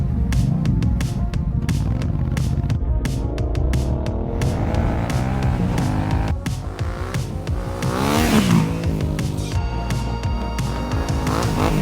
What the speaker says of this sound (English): I'm gonna break in these tires